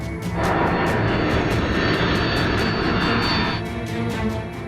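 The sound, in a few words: airplane flying, plane crash reenactment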